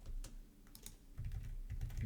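Soft typing on a computer keyboard while editing code, irregular close key clicks in quick bursts, quiet and unaccompanied by speech.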